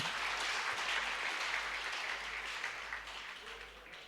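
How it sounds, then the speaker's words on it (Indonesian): Sustained applause from an audience at a virtual political campaign declaration event, a dense steady clatter of many hands that holds for several seconds and slowly tapers off near the end. "Tepuk tangan kita semuanya."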